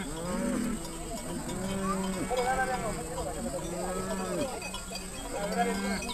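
Cattle graze outside Maasai bomas, several cows mooing in long, loud, close calls one after another over a steady background, with a narrator talking throughout.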